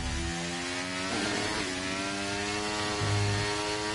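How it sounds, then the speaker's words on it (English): Formula 1 cars on out laps at the Belgian Grand Prix, a continuous engine roar that rises and falls as cars pass, heard from trackside with no talk. "drivers are out on their outlaps, preparing their tyres"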